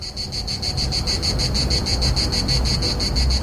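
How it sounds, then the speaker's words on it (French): Periodical cicadas in an American summer chorus sing as a loud, steady, pulsing buzz that throbs evenly throughout, with no voices. "les cigales périodiques se creusent un chemin vers l'air libre"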